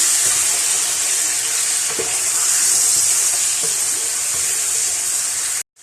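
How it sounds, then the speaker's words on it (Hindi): Ground white cumin, salt and black pepper sizzle in a pan while being lightly roasted, giving a continuous bright hiss with occasional soft stirring clicks, ending in a brief cut near the close. "ये तमाम चीज़ें डाल के मैं इसको हल्का सा भून लूँगी"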